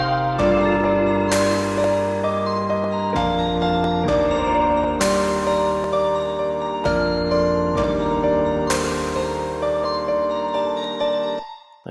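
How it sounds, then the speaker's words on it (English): Improvised piano melody played over a sustained chord progression, with block chords changing every few seconds and a brighter line on top, steady and close throughout. "Like I improvised this little piano line that I did"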